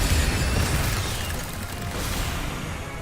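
Incendio fire spell cast in the Hogwarts Legacy game on PS5: a sustained, loud whooshing burst of flame with a low rumbling roar that holds steady for several seconds, close and unbroken.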